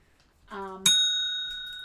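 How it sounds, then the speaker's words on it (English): A single small bell gives one bright ding that rings on and fades slowly, faint and fairly close, just after a brief sound at the start. "Sorry, Mark, that was a lame bell ring"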